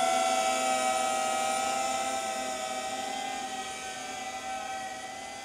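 A DJI Avata 2 drone whines steadily in flight with a loud, close, high-pitched motor and propeller tone that eases slightly as it moves away.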